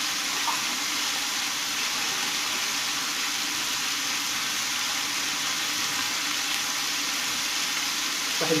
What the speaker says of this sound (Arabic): واحد الكاس ديال الماء باش